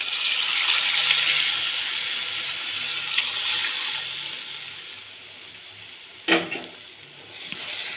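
A steady, splashy rush of tamarind mixture with turmeric being poured into a pan for fish curry, tapering off, followed by a single clank near the end.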